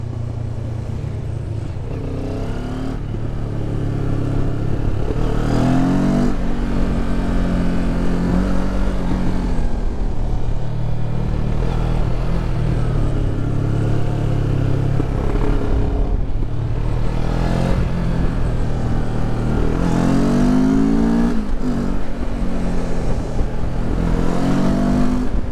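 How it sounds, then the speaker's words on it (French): Vintage collector cars climbing a hill in succession, their engines droning loudly and continuously with rising revs as each passes, no voices. "on a une jolie petite montée de voitures de collection là"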